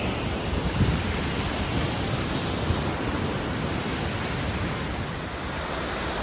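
Steady rushing roar of Rodney Falls, a waterfall on a Mount Hamilton hiking trail, filling the air evenly from start to finish, loud and unbroken, with no voices.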